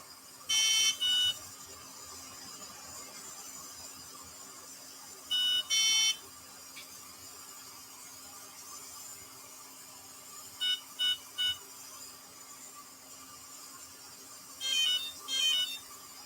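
Electronic ESC on a D2 Evo RC car chirps as it powers on: a few short, bright beep bursts near the start and again around six seconds, then quieter triple chirps and a final cluster, over a steady background hum.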